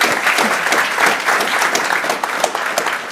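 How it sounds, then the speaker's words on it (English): Audience at a festival panel applauds the panelists on stage, a dense, steady round of clapping that holds loud for about three seconds with no talk over it. "We can give a big round of applause for our panelists on stage"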